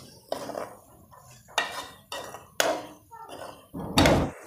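Whole spices (cumin, black pepper, cinnamon and cardamom) go into a pot for a turnip and meat curry, with a series of five or six distinct metallic scrapes and clanks of a utensil in the pot, spaced irregularly, over faint background and a murmuring voice.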